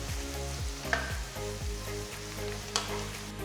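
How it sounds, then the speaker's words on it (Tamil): Sliced big onions sautéing in oil with cinnamon stick, cloves and cardamom for Chettinad pepper chicken, a steady soft sizzle with rhythmic scrapes of a spoon stirring, and a couple of sharper clinks. "4 பொடியாக நறுக்கின பெரிய வெங்காயம் போட்டு பொன்னிறமாகிற வரை வதக்கணும்."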